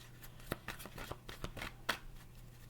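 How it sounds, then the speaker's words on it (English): Tarot cards being shuffled close up, a run of quick papery riffles and soft slaps with a few sharper snaps, fairly quiet. "Give it a couple more shuffles."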